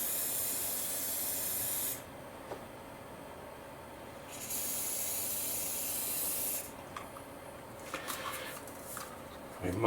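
Cheap hairspray hisses onto a model garden in two long continuous sprays, close and fairly loud, separated by quieter stretches with faint handling noises.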